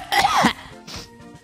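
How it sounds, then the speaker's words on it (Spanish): A single harsh cough with the mouth open, raspy and close, followed by a softer throat-clearing sound. "Estoy tosiendo con la boca abierta y en mi iPad."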